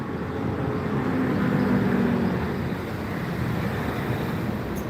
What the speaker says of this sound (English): that's the sound of a train coming in at high speed.